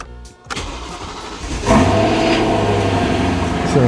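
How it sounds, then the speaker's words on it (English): A car engine cold-starts after a brief quiet moment: the starter cranks, then the engine catches with a loud rise and settles into a steady, rough idle close by. "let's go ahead and get that cold start for you guys"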